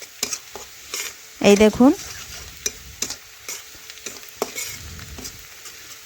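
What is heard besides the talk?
red chilli powder frying and stirred with onions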